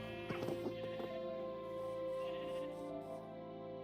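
Sheep bleat in a Minecraft farm pasture, a few short bleats early on over a steady layer of background game music, faint and somewhat distant.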